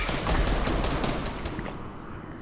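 Gunfire in Fortnite crackles as a rapid, dense burst of shots, loud and close at first and then thinning and fading over about two seconds, with no voices.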